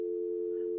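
A telephone dial tone heard on a call-in radio show after a missed caller: one steady, unbroken mid-pitched hum, clear and alone, with no voices.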